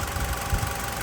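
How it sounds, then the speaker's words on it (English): A Mitsubishi Lancer's 2-litre engine idles with a steady low rumble and a rattly, knocking vibration, close and loud, with no talking. "you can hear that rattly sound, that's pretty normal when it's idling on these engines"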